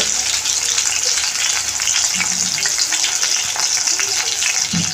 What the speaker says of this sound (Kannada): ಕಾಂಡಿ ಮೀನನ್ನು ಫ್ರೈ ಮಾಡ್ತಾ ಇದ್ದೇವೆ ಎಲ್ಲ ರೆಡಿ ಮಾಡಿ ಇಟ್ಕೊಂಡಿದ್ದೇವೆ ನೋಡಿ ರವಾ ಫ್ರೈ ಮಾಡ್ತಾ ಇದ್ದೇವೆ